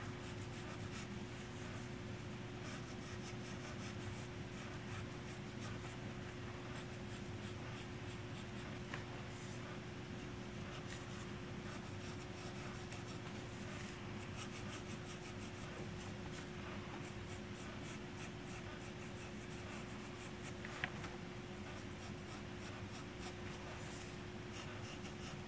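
Pen nib drawing and thickening the outline of a manga-style eye on paper, a steady soft scratching that runs continuously beneath a constant low background hum.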